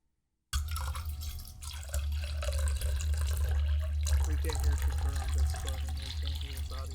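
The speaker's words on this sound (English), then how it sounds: "listen to the sound of me pouring water into my metal cup" Water pours steadily into a metal cup, a continuous splashing trickle with a low rumble beneath it, heard fairly close after a brief silence at the start.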